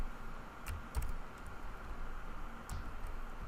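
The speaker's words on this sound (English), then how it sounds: "So now I'm going to my keyboard and actually type my name," Keystrokes on a computer keyboard as a name is typed, a few sharp, scattered clicks over a steady low background hum, fairly faint and without talk.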